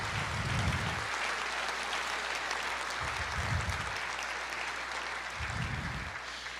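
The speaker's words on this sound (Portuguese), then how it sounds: "Você pode dar uma salva de palmas e dizer glória a Jesus" Audience in a Portuguese-language church service bursts into sustained applause, a dense steady clatter of many hands filling the whole stretch at even loudness, with no talking over it.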